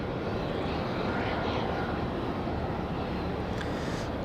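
A steady, fairly loud jet roar with a dense rushing texture comes from a Republic Airways airliner flying at night near Raleigh Durham airport, holding constant throughout.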